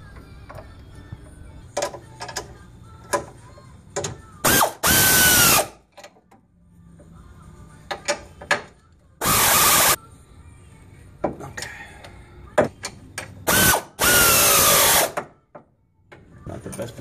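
A tool tightens bolts on a tubular K-member during a car install, giving short bursts of loud mechanical whirring separated by quieter clicks and handling noise, with a voice heard between them.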